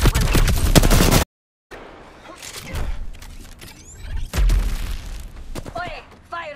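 Gunfire in a battle royale shooter, bursts of shots and booms in two loud stretches separated by a brief silence, with in-game voice lines over the action.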